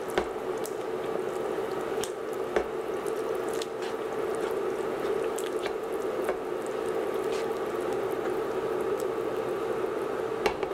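Skipjack tuna casserole is stirred in a pot, giving steady wet squishing and soft bubbling simmer sounds with occasional small clinks, close and moderately quiet, with no talking.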